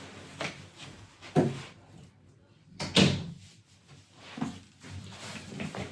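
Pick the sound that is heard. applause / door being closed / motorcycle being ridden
door being closed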